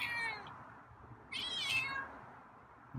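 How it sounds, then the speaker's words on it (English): A feral cat named Scruffy gives two meows, a longer one at the start and a clearer, higher one in the middle, close by over quiet background. "It's a little different meow."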